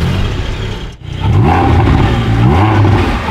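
A Porsche 718 Boxster engine pulls away and accelerates, a loud close drone that dips briefly during a gear change, then rises again in pitch with climbing revs, and no voices.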